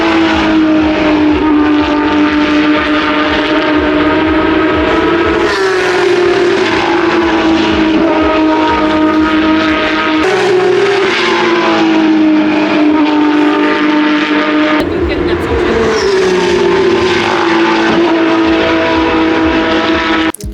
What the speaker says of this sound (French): C'était aussi impressionnant de voir à quel point les Porsche font pas le même son